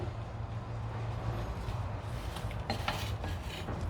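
Flour being mixed by hand into carrot cake batter in a bowl, a continuous soft scraping and rubbing of spoon against the bowl with a few light knocks, close and fairly quiet.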